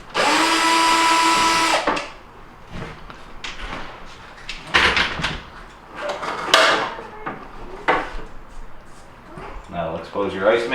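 A power drill whirs loudly for about two seconds, backing Phillips screws out of a Whirlpool refrigerator ice door assembly, followed by clattering plastic parts and handling noises as the cover comes off.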